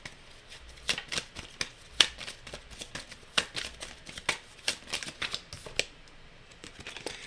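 Tarot cards riffled and shuffled by hand, a quick series of crisp, close flicks and slaps in uneven rhythm, quiet overall with no talking.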